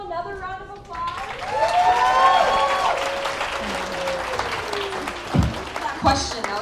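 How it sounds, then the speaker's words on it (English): Audience applause fills a room at a Muslim women's summit, a broad wash of clapping that swells and holds steady, with voices and crowd sounds mixed in throughout. "Give him another round of applause."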